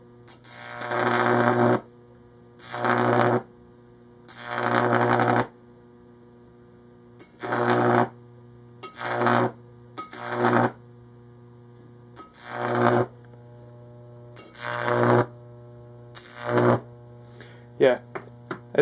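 A high-voltage transformer gives a steady loud electrical hum while arcs are struck again and again, each a harsh buzzing crackle lasting one to two seconds, with rapid sputtering bursts near the end.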